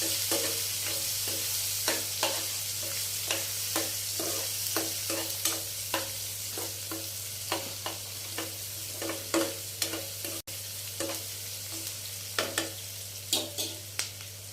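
Onion slices and split green chillies fry in a pan with turmeric, making a steady sizzle over a low hum, with regular spatula taps and scrapes roughly every second and no voices.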